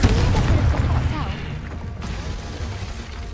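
A Confringo blasting spell bursts in Hogwarts Legacy, a loud booming explosion with crackling debris that fades into a sustained rumble, with game voice and effects mixed beneath.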